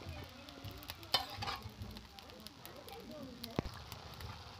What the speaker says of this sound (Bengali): দিয়ে খুব ভালো করে আমি মশলার সাথে কষিয়ে নেব